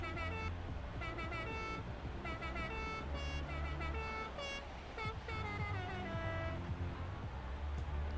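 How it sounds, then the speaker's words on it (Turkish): Car horns in Forza Horizon 4 drag racing honk repeatedly in short bursts and longer blasts, layered with engine drone and background noise. "Korna ile yaparız."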